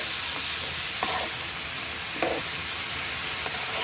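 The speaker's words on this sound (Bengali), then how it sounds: "কষিয়ে নিচ্ছি।" Young jackfruit curry stir-frying in a pan, a constant soft sizzle with a few faint spatula scrapes and taps, no voices.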